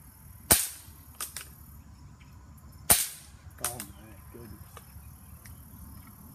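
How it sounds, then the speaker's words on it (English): An air gun fires pellets in two sharp, loud cracks about two seconds apart, each followed by a fainter impact tick, set against a steady outdoor insect chirr. "I still have some shots in the mag. Should I just shoot a couple and see what happens?"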